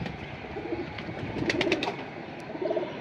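Caged pigeons from a breeder's collection coo close by, several soft throaty rolling calls rising in clusters over a low murmuring background.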